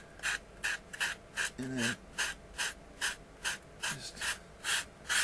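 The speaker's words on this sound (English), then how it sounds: "Take your rounded part of the sanding block and use it just to drag lengthwise" A sanding block is dragged lengthwise along a model airplane fuselage, giving a steady series of short rasping strokes at an even rhythm, close and clear, with a brief spoken word partway through.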